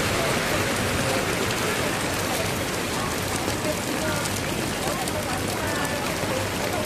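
Dense, steady hiss of heavy rain pouring down without letup, loud and close, filling the whole stretch.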